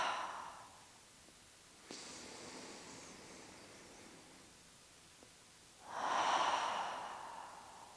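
Slow, soft exhaling breaths during a trauma-informed yoga session: a faint breath at the start, a quiet one near two seconds, and a fuller, longer exhale toward the end.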